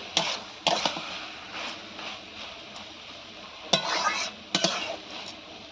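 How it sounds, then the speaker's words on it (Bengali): A spoon stirs banana flower ghonto with Gobindobhog rice in a pot, giving soft scraping and sizzle with several sharp metallic clinks against the pot, fairly quiet and close. "ঢাকনাটা খুলে নিয়েছি ভালো করে এবার নেড়ে নেবো"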